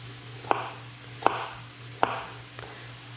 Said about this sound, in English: We're just going to quickly slice this. Just thin little slices.